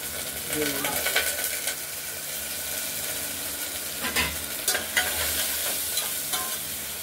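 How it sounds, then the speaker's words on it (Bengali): Washed mung dal stirred and fried in hot oil in a pressure cooker with dried red chilli, bay leaf and cumin, giving a steady close sizzle with scraping stirs and a few louder clatters. "এবার শুকনো লঙ্কা, তেজপাতা ফোড়ন দিয়ে আর জিরে ফোড়ন দিয়ে এই ধুয়ে রাখা ডালটাকে"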